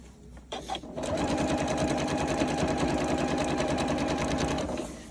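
A sewing machine stitches a zipper for a zippy bag, starting with a few short taps and then running at a steady, fast, even whir close by for several seconds with no talking.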